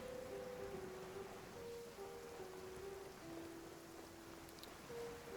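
Steady rain falls on a stormy island in Genshin Impact, a soft, constant hiss with no letup, with faint sustained musical tones drifting over it.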